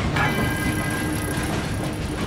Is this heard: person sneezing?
no